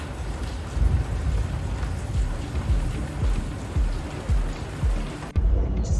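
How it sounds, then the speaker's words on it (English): Storm rain patters steadily on the wheelhouse of a steel 65-foot salvage boat, a dense close hiss with low thumping gusts and a brief knock near the end, no voices. "View from the wheelhouse during the storm"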